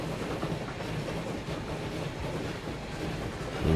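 A steam train runs on rails in the rail simulation game Transport Fever 2, giving a steady rumbling roll with rhythmic clickety-clack at moderate volume throughout, rising slightly at the end, with no speech.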